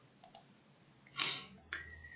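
A few sharp computer mouse clicks while drawing in Autodesk Inventor, two quick close clicks, then a louder burst and another click, fairly quiet and close.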